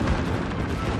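Heavy warship guns firing in World of Warships, the Konig battleship, a dense low booming rumble filling a short burst of artillery-like noise.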